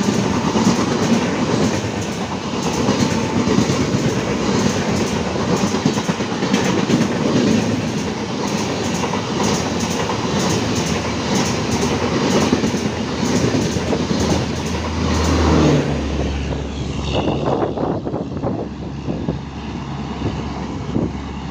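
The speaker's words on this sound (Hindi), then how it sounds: "ट्रेन भी एक आ रही है, उसके भी इंशाअल्लाह दिखाने की कोशिश करेंगे।" A train passes by outdoors among coconut palms, giving a loud, continuous rumble and rhythmic clickety-clack of wheels that fades and thins out toward the end.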